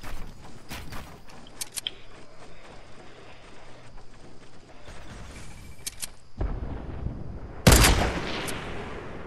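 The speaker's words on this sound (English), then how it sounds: "Shooting rockets, yeah. Down at the people down below." Rockets fired in a video game come as a few sharp launches and bursts among quieter in-game rumble, with a loud blast near the end and no talking.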